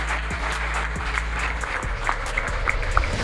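An audience applauds selected contestants at a music competition game show, with steady, dense clapping sustained throughout at moderate volume.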